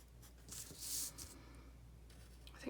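A black marker scratches across paper while shading in a shadow, a faint close scribble with one brief louder stroke over a quiet low hum.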